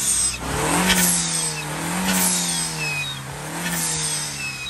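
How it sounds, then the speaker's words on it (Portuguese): A Volkswagen Golf 1.8 turbo engine, shown at a lowered-car meet, revs hard three times in a steady rhythm, each rise climbing and falling back, loud and close with no talk. "É turbo, dá uma acelerada."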